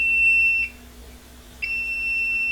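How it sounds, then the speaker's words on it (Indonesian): An Arduino PLC annunciator panel's alarm buzzer sounds in two steady high-pitched tones, cutting out briefly in the middle before resuming, loud and close with a faint low hum beneath. "Untuk buzzernya ini berbunyi ya."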